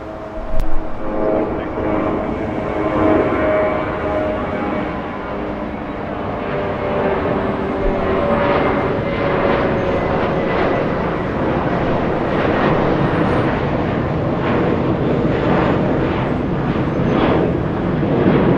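A Japan Airlines Boeing 777 lands on runway 24 right at Los Angeles International Airport after a nine-hour flight, a loud sustained broadband jet roar that swells and holds steady throughout, with no talk.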